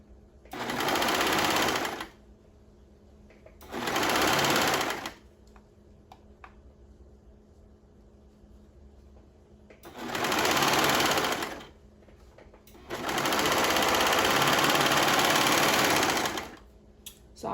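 A serger runs in four bursts while it stitches and trims the edges of a garment, each burst a steady, fast mechanical whir a couple of seconds long, with quiet pauses in between.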